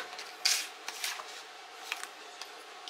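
Scissors cutting paper into small pieces for a handmade notebook, a few quiet crisp snips and rustles scattered over three seconds, close and soft.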